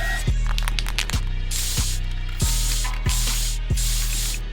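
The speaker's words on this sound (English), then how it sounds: "gave this minifigure some spray paint" Bursts of aerosol spray paint hiss in short repeated puffs, alternating with rhythmic clicking, close and fairly steady throughout.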